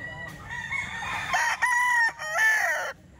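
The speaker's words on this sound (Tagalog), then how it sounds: "Gandang manok mga boss oh." A rooster, a grey fighting cock of Kelso cross, crows once loudly and close by, a drawn-out cock-a-doodle-doo lasting about three seconds, with no talking over it.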